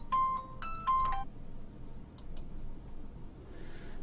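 A phone rings indoors, two short bursts of bright electronic tones, each a melodic beeping pattern, then quiet room tone with a few faint clicks.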